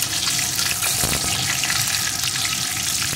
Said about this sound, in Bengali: এখন ফোড়নটা সুন্দর করে ভেজে নেব